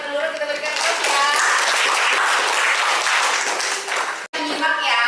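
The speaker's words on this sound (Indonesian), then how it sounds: "kita berikan aplaus ya" Dense, sustained applause fills a large room, loud and steady throughout with a brief cut near the end, the audience clapping for a presenter named Nurul at an academic supervision session.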